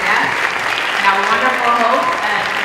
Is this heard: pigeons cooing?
no